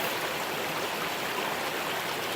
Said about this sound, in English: These blockages are what make the beautiful sounds of the river.